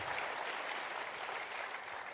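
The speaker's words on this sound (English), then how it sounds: "Let's give them a round of applause." An audience claps steadily after a jazz sextet's performance at a lecture event, a dense, even wash of applause with no voices over it.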